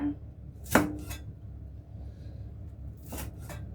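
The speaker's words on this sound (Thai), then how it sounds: "พริกขี้หนูเราจะหั่นเฉลียงเฉลียงเอา" A knife slices bird's eye chilies diagonally on a cutting board in two quick pairs of strokes with a pause between them, close up, against a quiet background.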